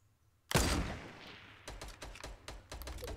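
Video game gunfire: one loud close shot with a ringing decay, followed after a pause by a rapid string of sharp shots in a steady rhythm, no talking.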